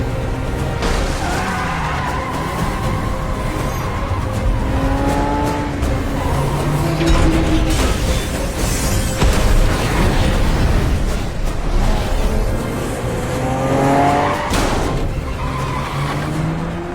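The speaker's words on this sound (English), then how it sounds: "I'm hearing a car chase, it sounds like. And there's a lot of destruction and like structures crumbling." Film car chase roars by with revving engines, screeching tires and skids layered over crashing, crumbling debris, loud and dense throughout with no pause.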